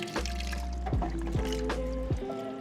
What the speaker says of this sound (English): Make sure we fill this up with water